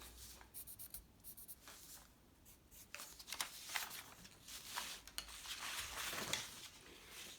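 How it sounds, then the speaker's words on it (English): Colored pencil scratching over a paper border: quick back-and-forth strokes, close and fairly quiet, coming in rhythmic bursts with short pauses between them and no talking. "I'm just going to go back over with a similar colored pencil."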